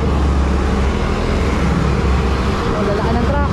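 A large truck passes on a mountain road, a loud, steady low rumble of engine and road noise filling the whole moment without a break.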